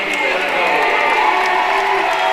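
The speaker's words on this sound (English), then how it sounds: "The crowd seems pretty excited tonight, supporting their players." A crowd cheers and roars continuously in a gym at a high school basketball game, the CHS Spartans against Richmond, with a dense, steady wash of excited voices throughout.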